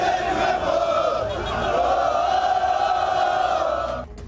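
Crowd of Flamengo supporters cheering and chanting in unison at the team's departure for Qatar, a loud, sustained mass of voices that holds steady before dropping off abruptly near the end.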